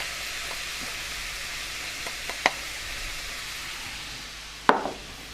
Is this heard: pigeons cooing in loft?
no